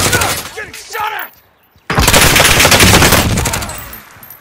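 Video game gunfire erupts as a loud, sustained burst of rapid shots that lasts about two seconds, following a short stretch of a voice speaking.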